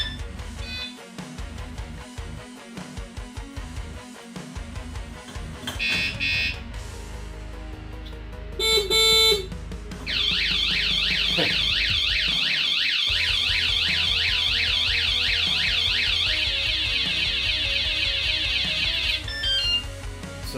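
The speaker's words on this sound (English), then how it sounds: "And then of course I've got the car alarm." A car alarm wired onto a homemade go-kart starts up after some handling noises and a short chirp, then wails with a loud, rapidly sweeping siren tone for about nine seconds before stopping.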